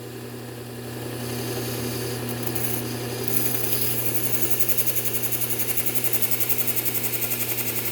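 Belt grinder with a fine Trizact A30 belt sharpening a lopper blade, a steady motor drone with grinding hiss rising slightly as the blade meets the belt, continuous and close.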